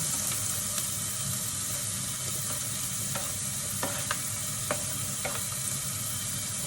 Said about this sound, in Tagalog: Ilagay natin ang ating garlic. Sabay na rin natin ang ating ginger.